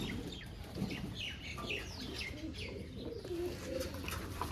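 Several flying pigeons coo in repeated soft, throaty phrases beside a water dish set out for bathing, mixed with small chirps and a brief flutter of wings close by.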